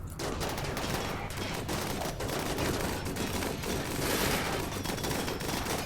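Sustained gunfire from a battle in the colony game Rimworld, dense overlapping shots and bursts crackling loudly throughout, with no quieter gaps between the volleys.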